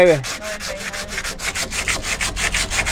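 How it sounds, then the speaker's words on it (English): Rhythmic sanding of paint off a VW Kombi body, a rough abrasive rubbing back and forth in quick regular strokes, close and fairly loud with no talking. "So he's sanding it down good, and then they're gonna get it prepared for painting."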